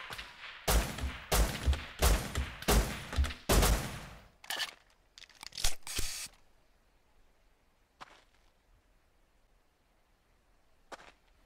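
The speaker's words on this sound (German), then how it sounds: "Hier schießt aber auch jemand hier ganz schön wild durch die Gegend." Rapid bursts of gunfire in the survival game Rust, a quick string of sharp loud shots over about four seconds, then a few scattered cracks and isolated distant pops with near silence between.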